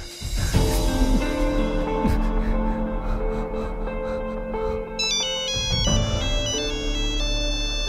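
A mobile phone ringtone plays loud and close, a bright electronic melody with repeating tonal phrases that keeps going with no talking over it.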